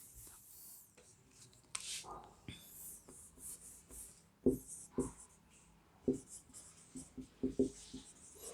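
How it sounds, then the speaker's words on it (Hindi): Marker or chalk strokes on a board form a word, with faint scratchy bursts and taps in short separate strokes, quiet and close, alone without talk. "देखिए मैं यहाँ लिखता हूँ अडासियस।"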